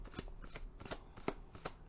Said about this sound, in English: We're just gonna shuffle,